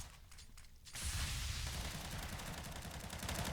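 Gunfire in Counter-Strike on the Cobblestone map during a competitive match, with a sudden dense burst of rapid shots starting about a second in and continuing loudly to the end after a quieter opening.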